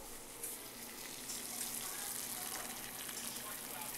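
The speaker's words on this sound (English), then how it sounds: "Water's boiling and time to put the egglets in." Silicone egglettes lowered gently into a pot of boiling water, a steady close hiss and bubbling churn with a few faint splashy touches throughout.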